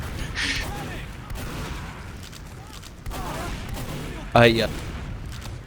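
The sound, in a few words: gunfire from the video game Team Fortress 2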